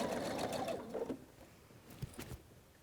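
A sewing machine runs a short burst of small stitches along a quilt border, a close, steady whirring buzz that stops after about a second, followed by a few soft handling clicks.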